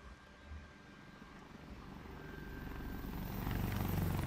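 Helicopter rotor and engine noise in a PS4 video game, a continuous broadband whirring drone that swells gradually louder as the aircraft seems to draw nearer.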